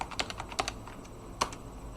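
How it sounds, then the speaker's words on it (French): Someone types a password on a computer keyboard in a quiet room, producing a faint scatter of light key clicks in an uneven rhythm with a few slightly harder taps. "Donc je tape mon mot de passe, je retape"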